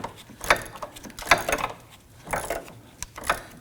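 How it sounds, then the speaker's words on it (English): An 18mm wrench turns the nut on a rear sway bar link of a Nissan Murano, giving four separate metallic ratcheting clicks and scrapes up close, spaced under a second apart, with no talking. "We use our 18mm wrench on the nut side."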